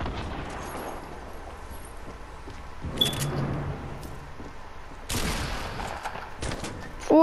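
Sniper fire in a Fortnite animation sounds as two sharp, loud cracks a couple of seconds apart, each with a short rumbling tail, over a low background hum.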